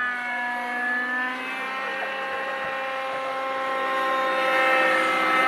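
A radio-controlled model helicopter with a tail rotor fault flies at a fun fly event, giving a steady, loud whining drone of engine and rotors that swells slightly toward the end, with no talk over it.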